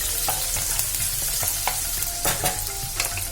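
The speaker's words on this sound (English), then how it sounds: "To this, I have added some chopped onions and some chopped green chillies. I'm just going to saute it for about a minute." Chopped onions and green chillies sizzle steadily in a hot pan, with the crackle of frying punctuated by several sharp scrapes and clinks of a spoon stirring, close and loud with no talk.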